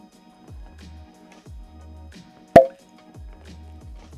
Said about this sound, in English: Pretty solid cork pop.